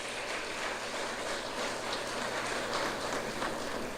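Audience applause at the launch of the 46th Sanfest arts festival in San Fernando, a dense, steady wash of many hands clapping that holds evenly through the whole stretch at moderate distance, with no voices over it.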